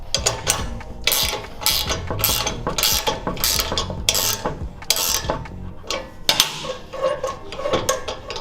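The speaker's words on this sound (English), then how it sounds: "These are a 1/2 inch bolt, so use a 3/4 inch. 2 3/4 inch wrenches." Two 3/4 inch wrenches tighten half-inch bolts on a go-kart, giving bursts of close metallic ratcheting clicks and clinks in uneven rhythm.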